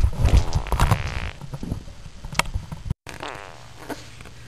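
Cartoonish dog fart sound effects, a burst of several sputtering, rumbling blasts at the start followed by quieter trailing pops and a brief drop-out before a final low, buzzing rasp, no talking.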